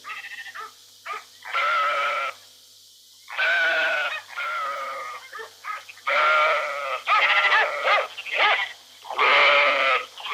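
A flock of ewes out to pasture in the Vendée countryside bleats loudly and close by, with a dozen overlapping calls of varied pitch following one another over several seconds.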